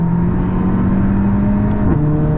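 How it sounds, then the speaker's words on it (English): A VW Golf GTI MK8 with a TCU tune accelerates hard at full throttle, its engine a loud, continuous drone that climbs steadily in pitch, then drops briefly at a quick downshift around the two-second mark before pulling on. "now let's punch it."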